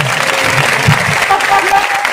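A church congregation claps along during a sermon, loud rhythmic clapping close by with voices singing and talking over it.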